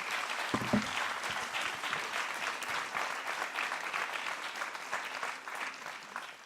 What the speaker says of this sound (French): Je peux vous applaudir.